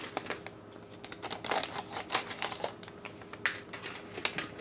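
A plastic bag being cut with scissors, a string of crisp crinkling snips and rustles up close, with no one talking.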